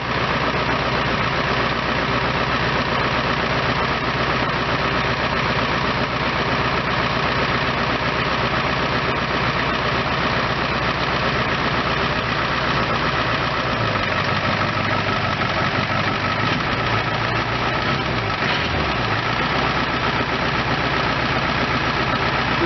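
A 1991 Ford F250 pickup with a 7.3 IDI diesel engine idles steadily and close by, a continuous low rumble with a rattly clatter throughout and no talking.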